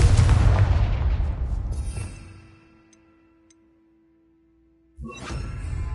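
A Confringo spell blast in the Hogwarts Legacy video game booms loudly and decays over about two seconds into a faint ticking tail, then another sharp blast follows.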